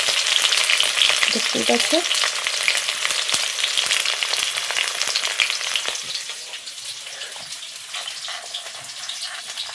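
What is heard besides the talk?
onions frying for mutton curry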